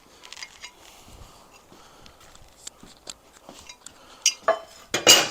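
Metal motor mount bolts and spacers for an Ironhead chopper engine clink and rattle as they are dug out of a pile, sparse light taps building to a few louder jangles near the end, close and without voices.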